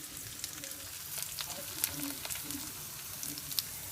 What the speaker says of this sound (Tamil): அதை அதில் கொட்டிக்கணும் நல்லா வறுத்துக்கணும்